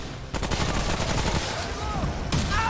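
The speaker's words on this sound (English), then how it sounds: "that submachine gun is good now" A submachine gun in Remnant: From the Ashes rattles off rapid, steady automatic bursts that continue for nearly the whole stretch after a brief quiet start, loud and close with game ambience beneath.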